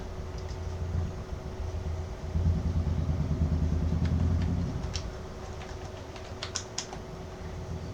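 Computer keyboard keys click in short, sparse bursts, mostly in the second half, while someone fills in an online ration card reprint form, heard close and faint over a low, steady hum with no talking.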